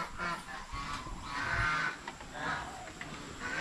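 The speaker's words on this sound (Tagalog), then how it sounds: "Meron pa dun oh, mga pabo." Turkeys gobbling in repeated throaty bursts from a farmyard flock, moderately near, with a low background rumble.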